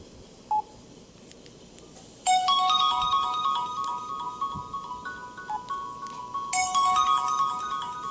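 A mobile phone plays its power-off tune: a short beep, then two bright melodic jingles of stepped electronic tones, loud and close against a quiet hum.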